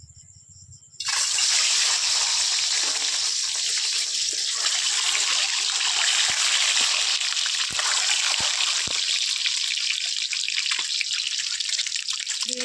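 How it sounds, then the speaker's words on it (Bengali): Slit boiled eggs dropped into hot oil, which erupts after a second into a loud, steady, close frying roar that holds through to the end, with a few faint spatula knocks. "ডিমগুলো এবার আমি তেলের ওপরে দিয়ে দেবো।"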